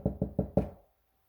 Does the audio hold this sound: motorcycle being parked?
no